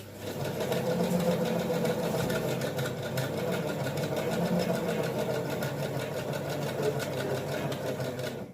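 A Singer 1288 sewing machine runs a straight stitch on knit fabric, its steady rapid whirring and needle clatter continuous and close for the whole stretch at an even pedal speed.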